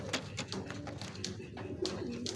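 Racing pigeons in a loft coo softly in several short, overlapping calls, close and alone without talk.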